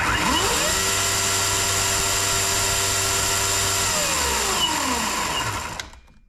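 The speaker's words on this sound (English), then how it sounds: "probably as loud as a gas-powered saw, maybe a little quieter. Definitely is a different tone." A Ryobi 40V battery chainsaw whirs up to speed on a workbench, holds a steady high-pitched electric whine for several seconds, then winds down and coasts to a stop, loud and close with no talking.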